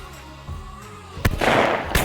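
A single shotgun blast fired at a clay target on a Montana dude ranch, a sharp loud crack followed by a brief rolling boom that fades, with a second fainter report near the end.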